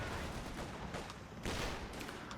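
Sustained .50 cal machine gun fire from a US half-track battle in Company of Heroes 2, a dense continuous rattle of bursts mixed with other combat noise and no talking.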